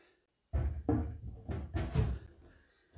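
A long wooden drawer slides back into a wooden chest: a few hollow, rumbling knocks and scrapes in quick succession after a short silence, close and fairly loud.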